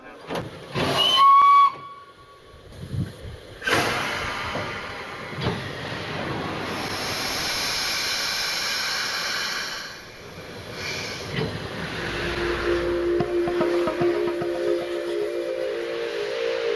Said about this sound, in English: Steam fills Tornado's cylinders.